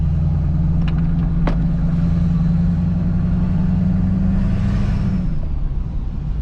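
A Duramax diesel swapped into a GMC Yukon, running an open downpipe, rumbles steadily up close with a deep, heavy drone, a couple of sharp clicks early on, and the note dropping off near the end.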